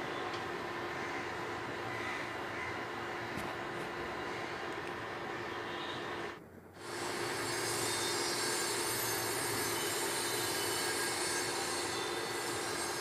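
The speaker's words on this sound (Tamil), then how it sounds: "குக்கர் சவுண்ட் உங்களுக்கு தெளிவாக கேட்குதுன்னு" Infrared cooker switched on and running, giving a steady broadband hum and hiss that holds evenly, dips briefly near the middle and then resumes at the same level.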